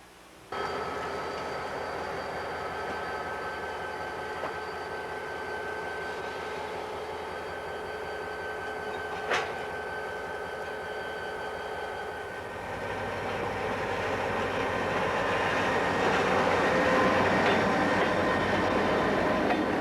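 An Idaho Northern and Pacific locomotive being turned on the Cascade Branch gives a steady, fairly close rumble with faint tonal whines and one sharp clank, then grows louder and rougher as it moves.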